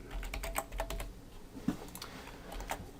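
Typing on a computer keyboard while an HTML Bootstrap template is being written: a steady run of close, light key clicks with irregular rhythm and an occasional heavier keystroke, alone without talk.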